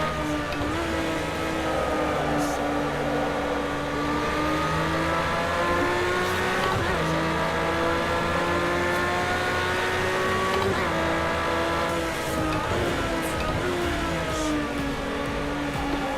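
In a racing video game, a race car engine (P1 GTR or Vulcan) revs continuously and loudly, its pitch rising through the gears and dropping briefly under braking into corners, with a faint tire squeal.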